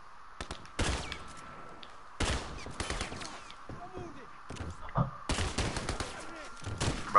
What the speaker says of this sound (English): I literally just shot one with a burst pistol.